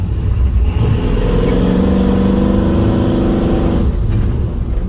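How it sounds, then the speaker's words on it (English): An old red car with a possible carburetor fault accelerates hard along a road, its engine climbing in a loud, steady rising drone for several seconds before easing off near the end. "I don't like speeding down my own road, but let's try it here."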